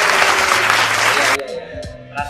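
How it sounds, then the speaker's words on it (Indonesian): Short burst of hand clapping from a small group during a talk about a 2019 BMW S1000RR motorcycle, loud for about a second and a half before cutting off into conversation. "Tepuk tangan dulu."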